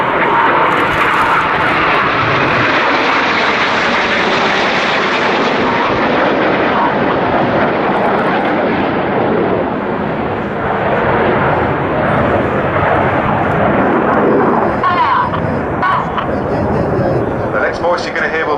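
Red Arrows RAF jets roaring overhead during an airshow flying display at RIAT 2011, a loud sustained engine rush that swells and fades as the formation passes, with commentary talking over it.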